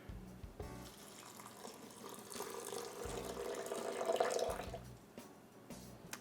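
Water pours from a measuring cup into a blender jar holding oats, a steady splashing trickle that swells and then tapers off, with light clinks at the start and end.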